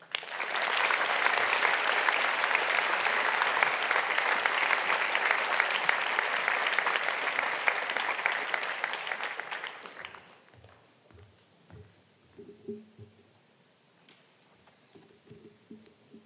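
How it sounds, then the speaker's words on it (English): An audience at a middle school moving-on ceremony gives a student speaker a sustained warm round of applause for about ten seconds, then it drops away to quiet room sounds and faint shuffling. "Please give a warm round of applause for Sawyer Glosser"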